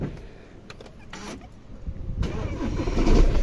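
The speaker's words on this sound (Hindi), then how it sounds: "अगर आप इसका बटन दबाओगे ना इंजन स्टार्ट से" A diesel Jeep SUV engine cranks and catches, then settles into a rough, rattling, rumbling idle that grows steadily louder, with no talking.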